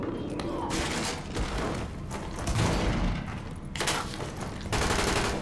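Gunfire in The Division rattles in loud, sustained bursts and heavy thuds over several seconds, with a few louder broadband cracks standing out from the dense barrage.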